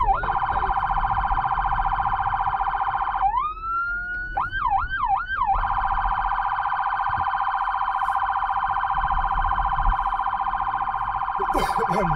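A Kia Sportage's siren wails loud and steady for the full length, briefly switching to a rapid yelping sweep in the middle before settling back into a continuous tone.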